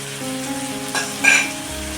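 Corn masala sautéing in a pan with cumin powder, garam masala and coriander powder, a soft steady sizzle with a brief stirring scrape and a short metallic clink, close and quiet.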